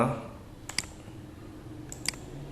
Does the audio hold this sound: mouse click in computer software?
yes